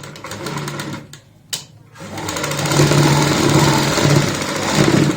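Electric sewing machine stitching a blouse sleeve, a loud fast needle clatter that runs, stops abruptly for about a second, then restarts and whirs steadily to the end, close up with no talking.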